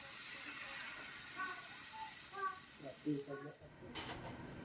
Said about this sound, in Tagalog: Isabay ko nang ilagay ang bawang sibuyas.